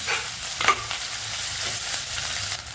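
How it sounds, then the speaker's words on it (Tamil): Green chilies, crushed ginger and garlic frying in a pan, a close steady sizzle with soft scraping stirs and a sharper clink of the spoon partway through, no voices. "இப்போ கட் பண்ணி வச்ச பச்சை மிளகாயை போட்டு சேர்த்துக்கலாங்க"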